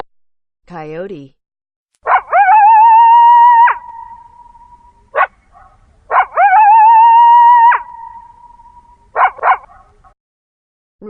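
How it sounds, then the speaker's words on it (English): A coyote calls in two drawn-out, wavering howls with sharp yips around them. The calls are clear and alone against silence. "Coyote."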